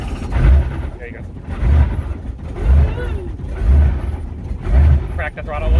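An R44 Raven II helicopter engine idles just after startup with the throttle slightly cracked, giving a steady low rumble that pulses in a slow, even rhythm of roughly one beat per second.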